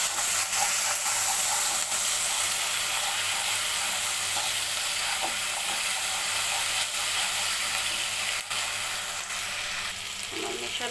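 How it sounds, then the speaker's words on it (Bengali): Ginger and garlic paste being stirred in a hot pan, a steady close sizzle of frying with faint scraping from the spoon running throughout. "এখন এই সবগুলোকে আমি নেড়ে একটু মিশিয়ে নেব।"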